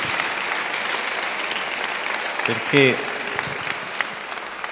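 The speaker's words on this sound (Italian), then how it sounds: "io credo che dobbiamo fare ad Antonia e ad Andrea un altro grande applauso" An audience at a youth meeting gives a long, even round of applause in a large hall, steady and moderately distant, with a brief spoken word cutting through near the end.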